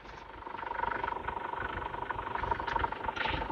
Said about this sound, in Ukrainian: Мотор рівно працює.